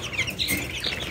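Hungry ducklings and chicks chirp close by, with a busy overlapping cluster of short, high peeps over a low background rumble.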